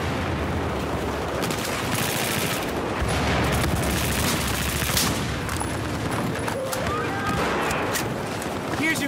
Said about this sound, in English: Once I empty up this big gun,